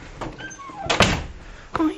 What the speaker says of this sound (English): I'm gonna figure out why my dog is jumping on the door.